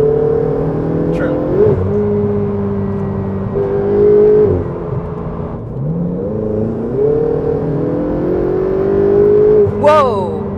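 A Ferrari 488 engine hums and revs while driving on a road, a loud, steady tone from inside the car that rises and falls through several gear changes, with people talking over it.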